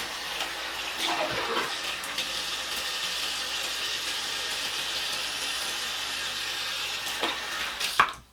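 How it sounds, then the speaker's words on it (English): Tap water runs steadily into a bathroom sink while hands are washed during a nighttime skincare routine, a continuous close hiss with small splashes and a sharp clack near the end, no voices. "Just make sure, wash my hands again."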